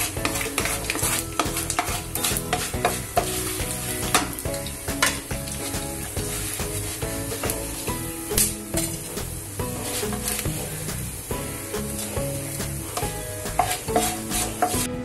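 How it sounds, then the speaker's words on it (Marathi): Fried whole spices for Khandeshi patodi rassa are stirred and scraped out of a pan, with busy close scraping and rattling strokes over a soft lingering sizzle, repeated steadily with no talking. "इथे मी तळलेला मसाला काढून घेतलेला आहे"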